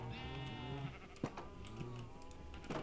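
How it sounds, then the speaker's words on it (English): Sheep bleat in a Minecraft farm, a couple of wavering, nasal calls close by with small clicks and game noises between them, faint overall. "All my cows, all my sheep."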